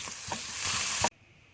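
Minced meat sauce with red pepper powder being stirred in a hot pan for Turkish meat börek, a bright continuous sizzle with soft stirring scrapes that cuts off suddenly after about a second.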